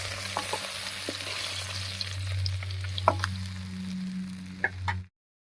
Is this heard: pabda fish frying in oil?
yes